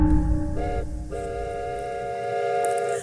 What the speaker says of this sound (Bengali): ট্রেন চলছে তার উদ্যম গতিতে